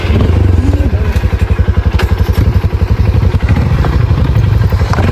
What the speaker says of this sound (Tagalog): si Kambal pa yung nagsakay sa motor.